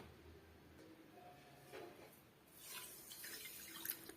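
A cup of water is poured into a pan of sugar to start a syrup, a faint splash and trickle that builds toward the end after a quiet start.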